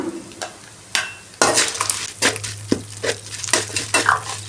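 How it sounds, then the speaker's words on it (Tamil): Tamarind and dried red chillies sautéed in a pan: a run of sharp scraping stir strokes over a steady low sizzle, close and fairly loud, the strokes coming in quick bursts. "புளி போட்டு அதையும் வதக்கிக்கலாம் வரமிளகாயும் போட்டுக்கலாம்"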